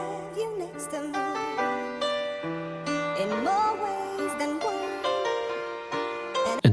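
A short chopped soul-style music sample plays on its own, with sustained harmonic tones, gliding melodic lines and steady low notes held at a moderate, even level throughout.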